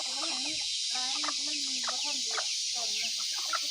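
Chickens raised on a farm orchard cluck in a steady run of short, close calls over a constant high hiss of outdoor ambience, with no talking.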